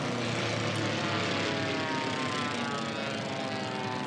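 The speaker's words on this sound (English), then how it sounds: "It's a beautiful aircraft. I love that plane." Formula One class racing airplane roaring past at the Reno Air Races, a loud steady propeller-engine drone with a shifting whine that fills the whole moment, no voices.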